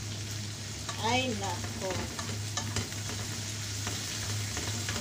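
Garlic, onion and tomato sauté in a pan with a steady low sizzle and occasional stirring scrapes, while a person briefly exclaims over the cooking and a faint hum runs underneath.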